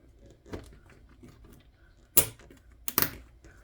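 Wooden piece of a book nook kit pressed into its hole, heard as a couple of sharp close clicks and snaps after quieter fumbling handling sounds.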